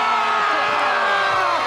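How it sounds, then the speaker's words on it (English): An audience cheers loudly and continuously in a short, dense burst of mixed voices and shouts. "give us a big cheer if you thought Dick's was better"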